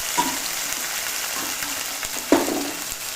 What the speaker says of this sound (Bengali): এখন এইটা আমি গরম তেলে দিয়ে দিচ্ছি